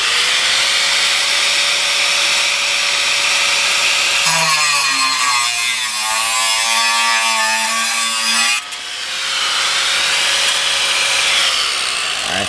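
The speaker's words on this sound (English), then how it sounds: "we've got a new cutoff wheel on. I've got to make another cut here" An abrasive cutoff wheel grinds through a car's rear axle assembly during a Volvo V60 Polestar brake job, giving a loud continuous high whine with a pitch drop as the wheel bites in mid-cut, then resuming its steady spin.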